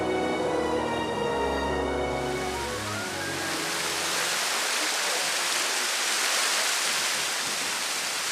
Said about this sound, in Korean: 화산 안반에 고여있던 온천수가 폭포처럼 흘러내리는데요.